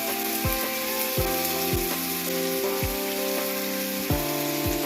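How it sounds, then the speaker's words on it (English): Continuous hot-oil sizzle and crackle of chicken pieces frying in a pan for butter chicken, with soft musical notes playing underneath and no talking. "Add your chicken into the pan once the oil is hot."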